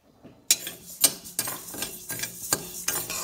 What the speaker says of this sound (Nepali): त्यसपछि चाहिँ मैले मुङ दाललाई भुट्छु।